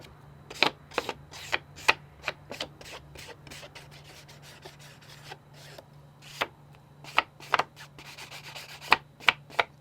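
Paper edges of a Halloween card being distressed, heard as quick, dry scraping strokes in short irregular bursts, close and moderately quiet, with no talking.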